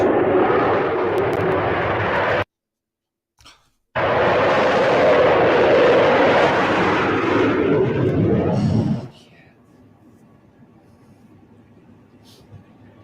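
Concorde with four Olympus jet engines roaring loud and close, a broad sustained blast cut off by a brief gap and then resuming before dropping to a faint low hum with quiet background noise.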